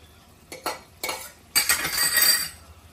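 Green chillies and coriander stirred into a chicken curry in a pot, first a few light clinks of the spoon, then a rising scraping, sizzling swirl close by.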